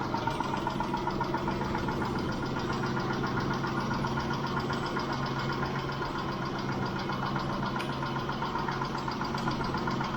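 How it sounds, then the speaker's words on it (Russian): Mitsubishi 6G72 engine idling about five minutes after starting, with hydraulic lifters knocking: a steady mid-pitched idle overlaid by a fast, even ticking that runs continuously at close range. "Гидрачи также стучат"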